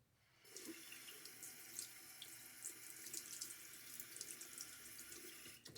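Water from a bathroom tap runs steadily over a stainless safety razor as its threads are rinsed during a shave, a continuous close hiss and splash starting after a brief quiet moment.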